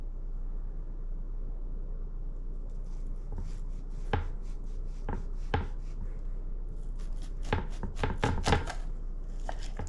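An onion being minced with a knife on a cutting board, a run of crisp irregular chops that grows faster and denser toward the end, over a steady low background hum.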